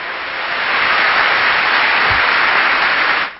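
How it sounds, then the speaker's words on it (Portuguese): Crowd of faithful applauding Pope Benedict XVI after he greets pilgrims from Portugal and Brazil: a dense, steady wash of applause from a large crowd, sustained and without distinct claps or talk. "E foi aplaudido por eles."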